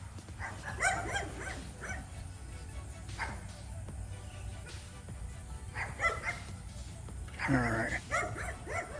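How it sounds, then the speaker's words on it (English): Several neighbourhood dogs bark in bursts, some near and some farther off, with yips mixed in, heard outdoors on a cul-de-sac while a person talks now and then. "Yes, we got some noisy, annoying dogs."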